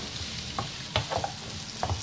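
Moon-sliced onions and garlic sautéing in a pan, a quiet steady sizzle broken by a few short scraping stirs.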